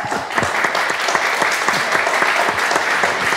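A podcast-event audience in Rennes applauds the sound booth technician, close, lively clapping with sharp individual hand claps standing out in a steady, brisk stream throughout.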